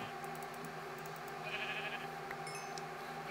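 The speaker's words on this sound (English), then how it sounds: "Kill the sheep." Sheep bleating in the Minecraft video game, version 1.7.9, a few short game-style bleats heard close over steady background game sound.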